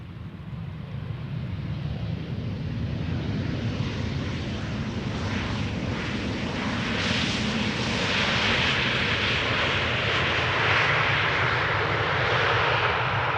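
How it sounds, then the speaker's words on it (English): An Embraer 190 jet airliner arriving at Amsterdam Schiphol Airport, its engine roar steady and broadband, swelling gradually louder as the plane draws nearer, with no voices. "Embraer 190 arriving from Florence"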